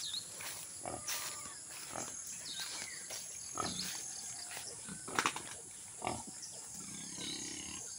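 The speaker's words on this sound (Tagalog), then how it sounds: "Ang aming native piggy. Nagpapadede si Mama Pig." A native pig nurses her piglets on a farm in Quezon province, with faint grunts and squeals scattered over a steady background of insects and rural ambience.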